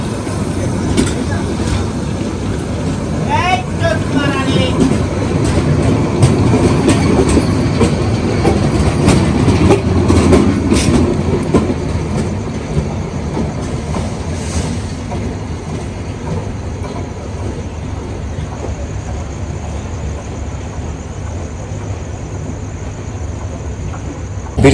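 A passenger train runs near Dhaka's Cantonment station while another train, bound for Lalmonirhat, passes alongside it. A loud, steady rumble of wheels on rails carries a rhythmic clickety-clack, with a brief squeal early on and the noise easing slightly toward the end.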